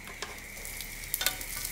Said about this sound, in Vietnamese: Giờ mình sẽ cho cơm nguội vào nè.